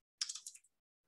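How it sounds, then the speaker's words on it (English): A short burst of quick keystrokes on a computer keyboard, about half a second of close, quiet clicks, then silence. "I can type."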